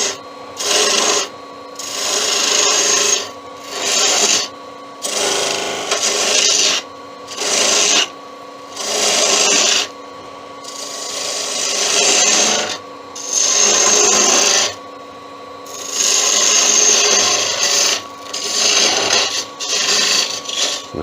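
Wood turning on a lathe, a spindle gouge cutting into a spinning blank to shape a Christmas tree trunk. Repeated rasping, scraping cuts come in short bursts separated by brief pauses over about twenty seconds, with no talk.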